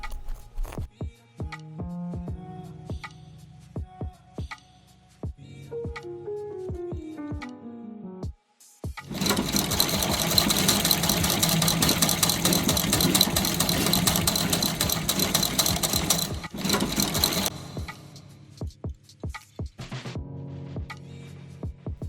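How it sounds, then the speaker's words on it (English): A sewing machine runs a zigzag stitch on leather cloud shapes, a steady loud mechanical whirr lasting about eight seconds between quieter taps and handling sounds. "The other 2 clouds were finished by machine using a zigzag stitch."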